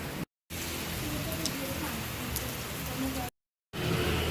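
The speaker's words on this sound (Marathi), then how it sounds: "किती जोरात पाऊस आलेला आहे" Heavy rain pours steadily on surfaces during a monsoon downpour with strong wind, a dense continuous hiss broken by two brief silent gaps, with faint voices underneath.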